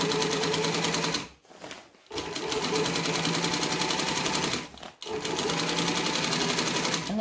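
A sewing machine runs fast and steady, stitching polyester binding onto a saddle blanket, with two brief pauses where the rapid mechanical chatter stops before resuming at full speed.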